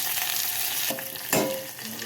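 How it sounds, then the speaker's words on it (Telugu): Green chillies and urad dal fry in hot oil for curd rasam, a steady close sizzle with short stirring scrapes and no talk. "శుభ్రంగా వేపాలండి బాగా వేగాలి పచ్చిమిర్చి వేగితేనే టేస్ట్గా ఉంటుందండి"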